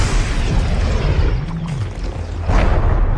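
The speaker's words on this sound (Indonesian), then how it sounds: "Saat daya sudah penuh, Mayor Sanson langsung menembakkan senjata itu dan" In a film, a high-tech weapon fires a blast with an explosion effect. A loud, dense, rumbling roar holds steady for several seconds, with a low wavering hum underneath and a swell near the end.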